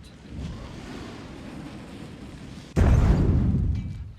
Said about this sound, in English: That is a good explosion.